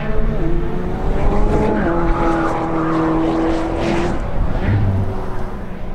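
A 2018 McLaren Senna V8 sports car accelerates hard, its loud engine tone climbing through the gears with a clear shift before settling into a higher pitch.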